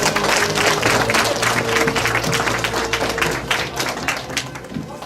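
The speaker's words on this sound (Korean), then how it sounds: "차밍팀에게 큰 박수 부탁드립니다" At a send-off ceremony for a student expedition team, a crowd applauds the team with dense, sustained clapping that holds loud for several seconds before thinning slightly.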